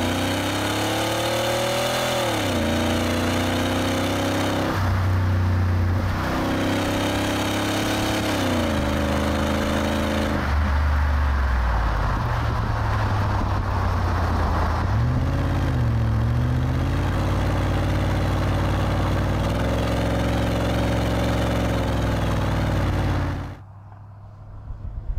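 A diesel Range Rover pulls away from a standstill, its engine note rising and falling in a series of slow, drawn-out gear changes, loud and steady until it cuts off at the end.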